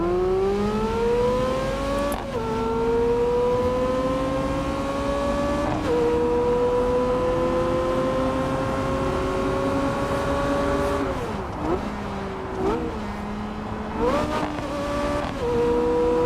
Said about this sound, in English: Not your normal V8 sound.